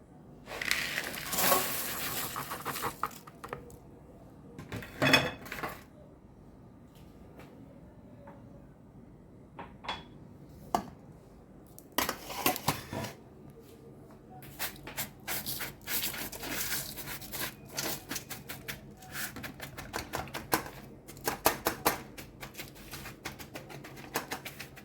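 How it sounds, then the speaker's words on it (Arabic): Biscuits being crushed by pressing down on them with a drinking glass, giving scattered bursts of crunching and scraping with quiet gaps between them, close by and moderately loud. "ونحاولوا نضغطوهم هكايا بالكاس"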